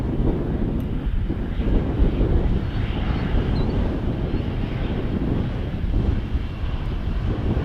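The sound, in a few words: KLM Airbus A330 airplane turning to line up with runway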